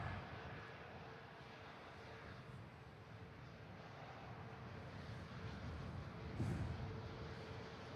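SunExpress airliner rolling out along the runway at Manchester Airport on a blustery day: a steady broadband jet roar with wind noise, constant throughout and swelling slightly near the end.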